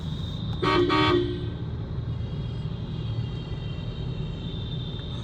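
A short, loud honk from the horn of a Mahindra Scorpio N sounds once near the start, then gives way to a steady low engine and road rumble from inside the vehicle.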